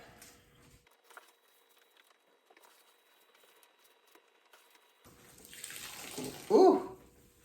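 Water squirts and splashes while a moss pole is being filled, mostly quiet trickling at first, then a louder rushing spray building near the end, close by.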